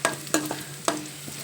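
A tempering of spices and garlic frying in oil, a soft steady sizzle punctuated by three or four sharp close clinks and scrapes of a stirring spoon, with no talk.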